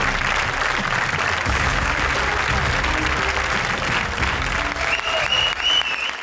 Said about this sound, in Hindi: तालियां हमारी टॉप स्कोरर जोड़ी के लिए।